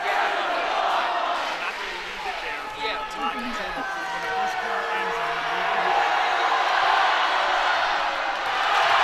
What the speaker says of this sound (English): The crowd really getting into him.